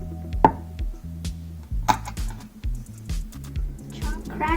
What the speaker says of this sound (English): Chop the green chili.